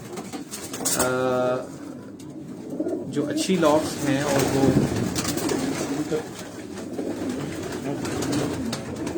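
Racing pigeons coo in a loft in Quetta, with soft, rolling calls close by under someone talking.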